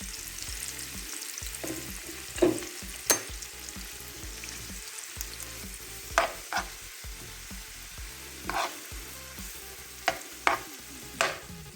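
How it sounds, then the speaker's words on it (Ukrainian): Onion and carrot stew in butter in a pan, giving a steady soft sizzle with scattered sharp clinks and scrapes of a spoon stirring every few seconds; no one speaks. "Додам цибульки і морковки і будемо тушкувати."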